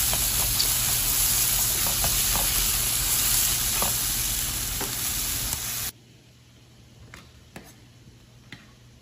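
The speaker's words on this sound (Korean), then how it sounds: "채소들이 맛있게 볶아졌으면은 이제 소스 넣고 마저 볶아내도록 하겠습니다." Vegetables stir-fry in a pan for a spicy Chinese-style stir-fried jjamppong, sizzling loudly and steadily with occasional ticks of a utensil before the sound abruptly drops to a faint, quieter sizzle with scattered clicks.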